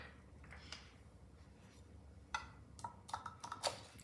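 A knife cuts down the middle of pomegranate bars, giving faint, close scraping and a few soft crisp ticks and crunches in quiet surroundings, with no speech.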